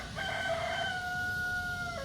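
A rooster crows once in a long, drawn-out cock-a-doodle-doo, heard fairly faint and somewhat distant over a quiet outdoor background near a barn.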